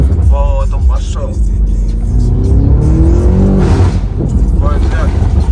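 A BMW M5 F90 with a very loud aftermarket exhaust revs and accelerates hard on city streets in Sochi, rising engine tones booming close by while people talk excitedly over it.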